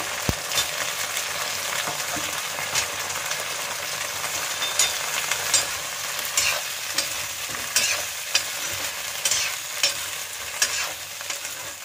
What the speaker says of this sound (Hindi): इसी के अंदर डाल देते हैं आलू ये भी फ्राई हो जाएंगे